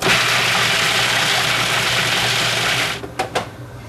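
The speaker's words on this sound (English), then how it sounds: "We grind them into a flour by using the food processor." Food processor grinding nuts into flour for a dessert crust, running as one loud, continuous, close-up whir that stops near the end and leaves a couple of brief clatters.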